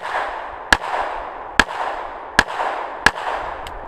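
A handgun fires through the pocket of a heavy jacket, four sharp, loud reports spaced evenly less than a second apart, followed by a fainter fifth crack, with quiet hiss between shots.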